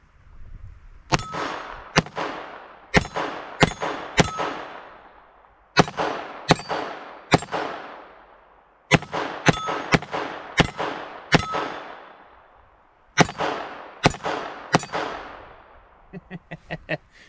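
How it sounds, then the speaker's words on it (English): Taurus TX22 .22 pistol being fired, with sharp close shots in quick strings of two to four, separated by pauses, ending in a fast flurry of fainter shots. "22 is just so much fun to shoot."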